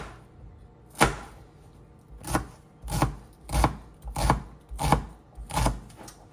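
A knife chops shallots into large chunks on a board, with about eight distinct, evenly spaced thuds sounding close and fairly loud against a quiet background.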